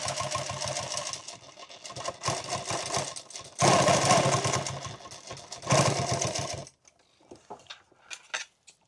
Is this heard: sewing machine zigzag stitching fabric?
yes